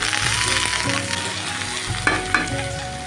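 Bay leaf pieces, dried red chilies and five-spice seeds frying in hot oil in a wok, a loud continuous sizzle with two sharp utensil knocks toward the end.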